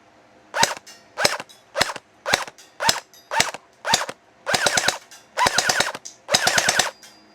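Daybreak T238 Chrono Tracer gel blaster toy firing close by, first as seven evenly spaced single shots, then as three rapid bursts of several rattling shots each.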